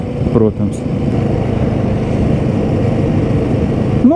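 Motorcycle engine on a test ride, heard as a steady, close rumble mixed with road and wind roar; a brief voice sounds near the start.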